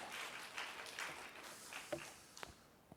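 A church congregation applauds during a Wednesday worship service, a soft, distant patter of clapping that fades into a few scattered taps and thumps.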